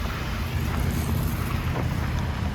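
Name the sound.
wind blowing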